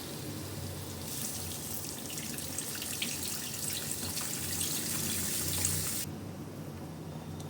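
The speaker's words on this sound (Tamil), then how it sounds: "இப்போ கரைச்சி வச்சுருக்க புளியை ஊற்றிடலாம்." Dissolved tamarind water poured into a cooking pot for a pirandai kuzhambu, a steady close splashing pour running for about five seconds before stopping, with no talk.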